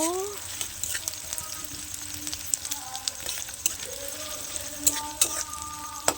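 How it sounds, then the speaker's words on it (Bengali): Chopped onion frying in a pan while being stirred, a moderate sizzle broken by frequent sharp scrapes and clinks of the spoon against the pan, with faint tonal sounds in the background. "পেঁয়াজটা দিয়ে একটু নাড়াচাড়া করব"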